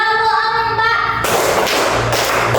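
Schoolchildren in a classroom clap in a practiced rhythm, loud close slaps bursting out after a brief stretch of tonal sound and continuing in quick sharp hits.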